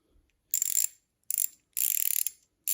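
An Allen key works loose the stem bolts on a Trek Marlin 7 mountain bike, giving four close, bright bursts of rapid metallic ratcheting clicks separated by short silences.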